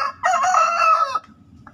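A fighting rooster, one of the newer Indonesian cross-bred fighting chicken lines, gives a single loud, close crow lasting about a second, followed by quiet background.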